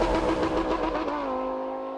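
Lamborghini Huracan V10 engine revving hard, a loud raspy roar that peaks then settles into a steady high-pitched whine, close and alone.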